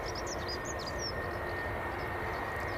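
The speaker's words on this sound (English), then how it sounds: "Alibi confirms EasyJet from Bristol on finals." An EasyJet Airbus A321 from Bristol on final approach to Edinburgh Airport, a steady low jet rumble and hiss at a distance, faint and continuous with no voices.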